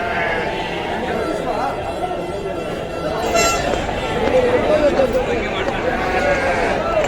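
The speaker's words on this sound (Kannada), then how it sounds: "ಚಿನ್ನೂರು ಕುರಿಗಳು ನೀವೆಲ್ಲ ನೋಡ್ತಿರೋದು" Chinnur breed sheep bleat repeatedly from a nearby flock at a village sheep market, mixed with background chatter and the shuffle of animals moving.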